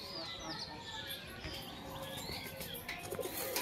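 A flock of colourful domestic pigeons coos softly amid a busy, noisy background of chirps and rustling, steady throughout with no clear single call standing out.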